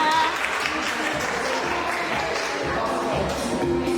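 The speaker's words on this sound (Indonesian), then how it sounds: "tepuk tangan dulu untuk semua" A classroom of students applauds during a lesson, a continuous, fairly loud clatter of hands lasting a few seconds with overlapping voices chattering beneath the clapping.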